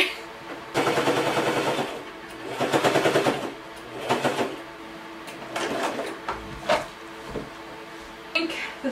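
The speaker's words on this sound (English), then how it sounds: "let's just sew the pockets together." A sewing machine stitches pockets together in bursts of rapid mechanical chatter, separated by short pauses and handling clicks, while a person talks briefly nearby.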